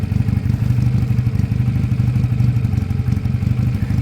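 A Sinnis Cruisestar 125cc motorcycle engine, which is smoking, idles steadily up close, a constant low rumble with a mechanical clatter and no breaks.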